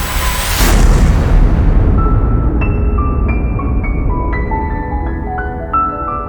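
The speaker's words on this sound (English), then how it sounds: "They evaporate away at an increasing rate until they vanish in a gigantic explosion." A gigantic explosion of a vanishing black hole rendered as a cinematic sound effect: a loud, bright burst at the start that fades into a sustained deep rumble, with drifting tonal shimmering layered over it to the end.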